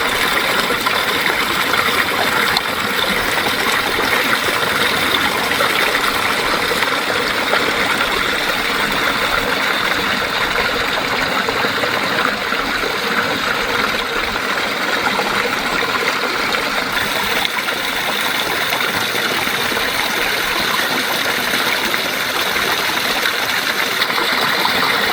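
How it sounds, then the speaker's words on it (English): Steady waterfall flowing beneath freezing, thickening ice sheets, a continuous broadband rush and gurgle that stays loud and even throughout with no voices. "The water is still flowing underneath the ice sheets"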